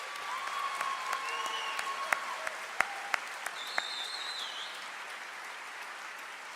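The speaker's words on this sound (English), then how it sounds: "Please join me in another round of applause for these outstanding musicians." Applause at a university convocation, given for a pipe and drum corps, comes as a fairly quiet, distant wash of clapping from a seated audience, with a few sharper individual claps and faint whistles rising above it.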